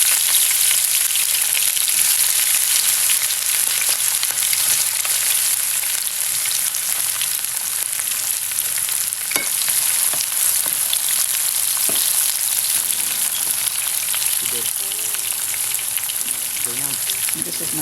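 Pasta salad ingredients with minced garlic sizzle and fry steadily in a pan, a close, loud, continuous crackle with occasional stirring clatter near the end.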